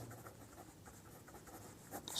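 Math is written on a board during a Class 10 arithmetic progressions lesson, a soft, steady scraping of strokes over a hissy room background, growing slightly louder at the end.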